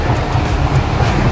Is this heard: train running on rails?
yes